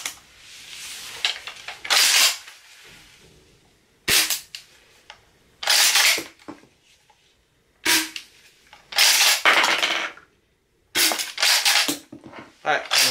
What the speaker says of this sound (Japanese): 薬莢装填からの、一連の流れでね、ちょっと3発